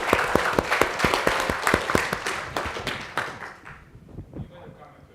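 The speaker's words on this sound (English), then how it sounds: "please give him a round of applause" Audience applause at an entrepreneurship funding event, with steady clapping from a crowd that gradually thins and fades out over several seconds.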